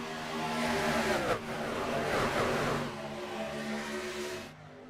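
Race truck engines roar continuously in an iRacing truck race at Daytona, a dense, loud pack of engines droning and revving with shifting pitch throughout, easing slightly near the end.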